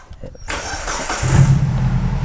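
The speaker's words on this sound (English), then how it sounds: "so we got the vehicle started up" A 1995 Mitsubishi Libero engine with a weak battery and loss of power cranks and catches, settling into a low, steady rumble that grows louder, with a brief click and some noise before it.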